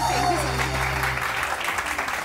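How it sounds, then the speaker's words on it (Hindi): A TV studio audience applauds the hosts and the house band on a morning show, clapping steady and fairly loud with a sustained musical tone underneath that fades after about a second. "एक बार जोरदार तालियां हो जाए अली रजा, मारिया सऊद और हमारे बैंड के लिए।"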